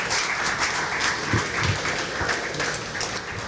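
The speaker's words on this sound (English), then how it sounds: "How about a big round of applause for Craig Della Penna?" Dinner audience applause for a guest speaker at a bike and walk advocacy event, a sustained round of many people clapping at moderate distance, even and unbroken with no talk.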